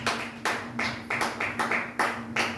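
A church congregation applauds at a worship service, with rhythmic group clapping in steady bursts about twice a second, loud and close over a faint sustained hum.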